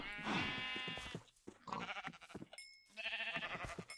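Sheep bleating in a farm video game, several wavering harmonic bleats in a row with short pauses between, fairly loud and close, alone without talk.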